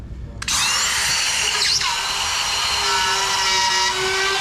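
A rotary zip tool cutting through drywall whines loudly and steadily at high speed after a brief start, with a short scraping change in tone midway as the bit touches the side of an electrical box.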